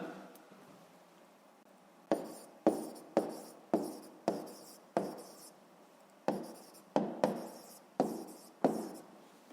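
A pen writing on paper during a sixth-grade math exercise, after a quiet start breaking into a series of sharp, close taps and short scratches in quick bursts, with no voice over them.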